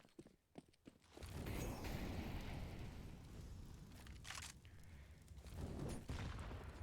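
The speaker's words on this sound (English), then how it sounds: "Early nades again from DEACO Gang" Grenades burst during a Counter-Strike match: a heavy blast erupts after a few faint ticks and rolls on as a long rumbling roar, then a second loud explosion hits near the end.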